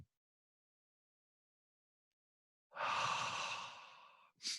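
One long, soft exhaled breath during a yoga session, heard alone in a quiet room, followed by the start of a second breath.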